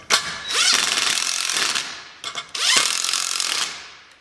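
A power drill with a 9/16 socket drives self-locking nuts while installing air bag suspension, two long, loud whirring bursts separated by a short pause with a few brief stutters, and no talk.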